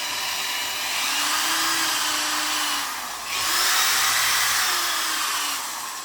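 A power sander roughly sanding a guitar body during a setup makes a loud, steady, continuous whirring hiss that briefly dips and then resumes, with no voices.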